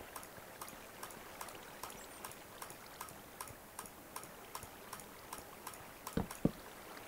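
Flowing water in Minecraft runs as a soft, faint trickling wash beneath a steady series of regular light ticks, with two louder knocks near the end.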